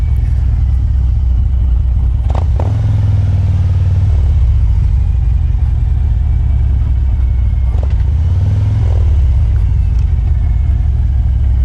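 A Harley-Davidson bagger motorcycle rides along with a loud, constant low engine rumble close to the microphone, with a couple of brief shifts in tone as it changes pace and no speech over it.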